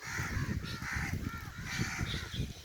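Crows caw repeatedly near village fields, a run of harsh overlapping calls in quick succession, fairly close and clear over a quiet outdoor background.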